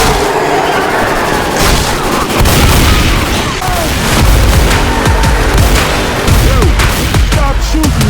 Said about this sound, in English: Stop shooting me, alright?